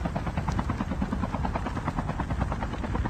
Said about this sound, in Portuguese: O helicóptero tá pegando fogo